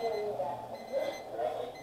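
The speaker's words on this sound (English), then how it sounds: "timer's about ready to go off" Kitchen timer ringing while trout is bottled by pressure canning, a repeated beeping buzz in short bursts, moderately loud and close, with faint background hum.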